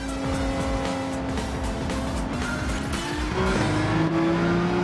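A Porsche 911 races in Gran Turismo 7, its engine droning loudly and steadily with rising and shifting pitch, tires squealing as it corners, with no talking over it.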